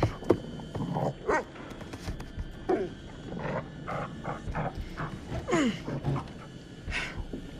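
A dog in The Devil in Me video game gives a series of barks and growling yelps, loud and close, recurring irregularly across the whole stretch with no speech.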